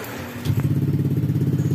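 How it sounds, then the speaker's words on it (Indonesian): A Honda Vario 150 scooter engine starting after injection service work: brief quiet, a short starter whir, then the engine catches and settles into a steady close idle with a regular pulsing putter. "baru kita coba hidupkan motornya"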